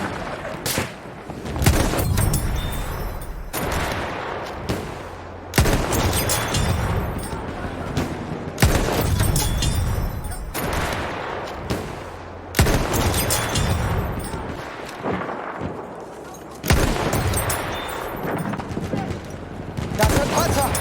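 Battlefield 1 combat with enemy machine gun fire: loud, continuous bursts of gunfire and booming explosions, repeated in several heavy waves across the scene.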